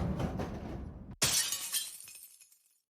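A played-back recording of a plate smashing: a muffled stretch of noise, then a sharp, bright crash of breaking crockery with scattered tinkling fragments that fade out into silence.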